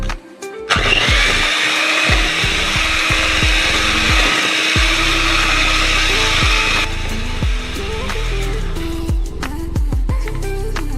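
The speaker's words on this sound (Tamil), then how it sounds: "இந்த சுகரை வந்து லைட்டாக இப்படி மிக்ஸ் பண்ணிவிட்டு அதுக்கப்புறமா பீட் பண்ணுங்க" An electric hand mixer whirs loudly and steadily while beating ground sugar into a mix, with rhythmic thumps of the beaters striking the bowl throughout.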